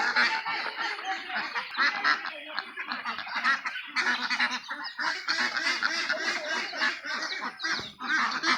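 A large flock of about 200 Khaki Campbell ducks on a small farm quacks and honks in a dense, continuous chorus that stays close and loud throughout, with no talking.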